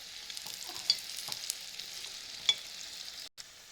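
Unniyappam batter fries gently in a non-stick unniyappam pan, giving a soft, steady sizzle with a few faint clicks and scrapes, heard alone without speech.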